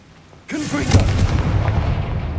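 A Confringo spell blast from the video game Hogwarts Legacy, a loud, sudden booming burst that hits hard and then rumbles and crackles on, with no talking over it.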